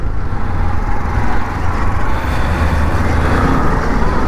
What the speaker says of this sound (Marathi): हे ट्रॅफिक, अरे देवा, अजून तर चाकणचं ट्रॅफिक बाकी.